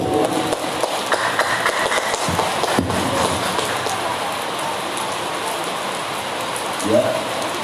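Light drizzle falling outdoors at a gathering, a steady, dense patter of rain that fills the whole stretch at an even level, with a few brief louder knocks and faint background sounds mixed in.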